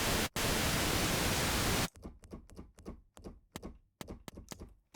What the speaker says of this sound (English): we have white noise from the Moog.